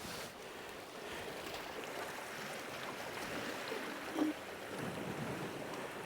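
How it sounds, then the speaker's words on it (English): Sea waves roll steadily onto a Cornwall beach at low tide, a broad continuous wash of surf with wind noise, fairly distant and even, with no voices. "Yeah, some nice waves coming in."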